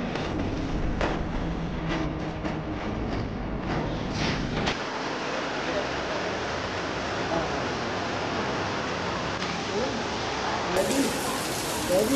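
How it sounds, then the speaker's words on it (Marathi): Heavy rain pouring down at a Ganapati temple in Pali, a dense continuous hiss of downpour close by, with a few bumps and knocks early on and no break in the steady roar. "नुसता पाऊस पडतोय"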